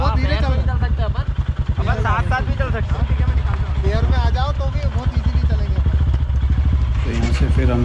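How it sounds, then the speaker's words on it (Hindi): A motorcycle engine drones steadily throughout while riding at night through dense jungle, with people talking loudly over the continuous rumble. "नाइट सफारी वो भी बाइक पे यार"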